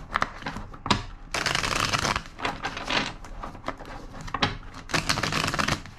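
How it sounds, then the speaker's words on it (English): A deck of tarot cards is shuffled up close in several riffling bursts, with dense rapid flutters broken by brief pauses and sharper taps as the cards are squared, loud and alone without talking. "two more shuffles."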